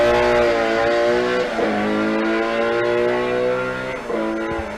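A 2.4 litre Ford Escort rally car launches hard at a sprint race. The engine roars loud and close, climbing through the revs with brief dips at two gear changes before pulling hard again.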